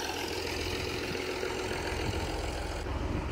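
An Oliver 1800 tractor engine idles steadily in a field, a low, even rumble held close and constant with no talk.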